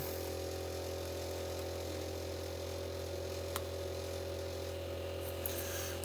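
A small air compressor hums steadily for an airbrush set to 33 psi, a constant low drone with a faint buzz that runs unbroken throughout, with a brief click near the middle and no talking.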